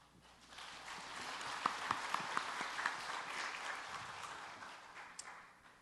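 Audience applause fills a church hall at a regional Holiness church evangelism rally, a steady broadband clapping that swells in and holds at moderate level with a few sharper individual claps standing out.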